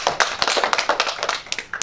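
Brief, close clapping from a primary school audience for a student named Harriet after her presentation, a quick scatter of hand claps lasting under two seconds with no talk.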